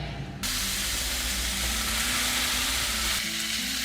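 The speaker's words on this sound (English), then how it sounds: "Let's get it in the air fryer." Meat goes into a preheated air fryer, setting off a sudden loud, broadband hiss and sizzle. It holds steadily for about three seconds and then eases off, with no voices.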